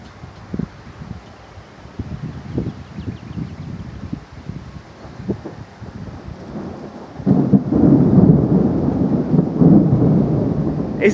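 Low rolling thunder rumbles repeatedly during a thunderstorm with close lightning strikes, then wind and steady rain swell louder, filling the scene with a dense outdoor wash.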